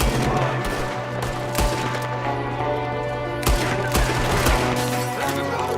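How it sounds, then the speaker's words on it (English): Gunfire from a window during a Red Dead Redemption 2 shootout, a rapid irregular series of loud sharp rifle and pistol shots, some clustered in quick bursts, over a steady game background. "There's another one shooting from the window."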